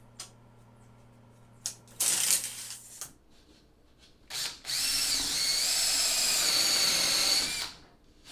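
A power drill bores pilot holes into plywood for a small boat build, with short whirring bursts, a clatter of handling, then a longer loud high-pitched drilling run, close up and without talk.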